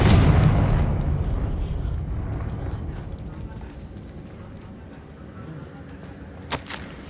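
A Confringo fire spell explodes in the video game Hogwarts Legacy, a loud booming blast at the start that rumbles and fades into a long decaying tail, with a small sharp pop near the end.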